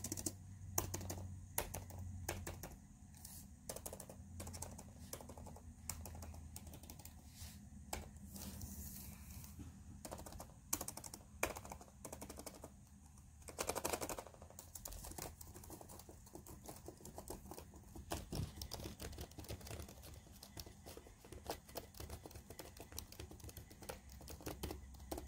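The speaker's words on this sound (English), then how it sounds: "So I'm going to do a keyboard sound test." Keys on a Razer laptop keyboard are tapped in a typing test, a fast, quiet, close run of crisp clicks and clacks with brief pauses and no voices.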